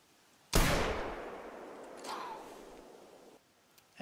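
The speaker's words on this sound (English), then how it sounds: "This is the 308 bolt action rifle carbon." A single sharp 308 bolt-action carbon rifle shot rings out in theHunter Classic, a loud crack followed by a long rolling echo that fades over a few seconds, with a faint second report partway through the tail.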